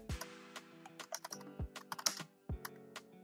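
Rapid typing on a computer keyboard while editing a Google Docs checklist, a close, uneven run of many sharp key clicks with a few heavier thumps, no voices.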